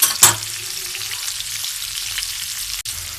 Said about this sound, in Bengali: দেখুন আমার মাছটা ভাজা হয়ে গেছে।